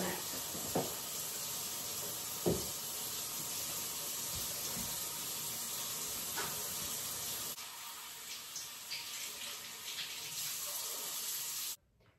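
Continuous rush of running water soaking a plant pot, with occasional splashes and drips, then a quieter trickle as it drains before the sound cuts off abruptly.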